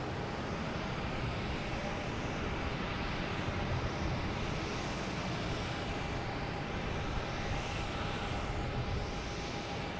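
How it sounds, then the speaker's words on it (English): A Delta Boeing 737-800 arriving at Boston Logan from Fort Lauderdale makes a steady, broad engine roar that holds at an even, moderate level for the whole stretch, with no talk. "We have a Delta coming in from Fort Lauderdale."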